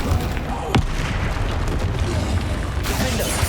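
A Bombarda spell explodes in Hogwarts Legacy with a loud, booming blast over dense, roaring game effects, followed by a bright crackle near the end.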